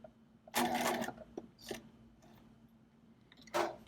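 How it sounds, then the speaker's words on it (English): Home sewing machine stitching down the tape beside an exposed zipper, running in two short bursts with a quiet pause between, close and fairly soft. "So I'm stitching pretty close, if not right on top of that first stitching."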